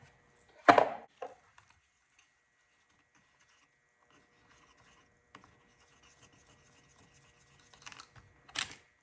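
Air filter cover popped off a Husqvarna 372XP chainsaw that runs briefly and stalls, one sharp plastic snap near the start followed by quiet handling clicks and a few rustling taps at the end.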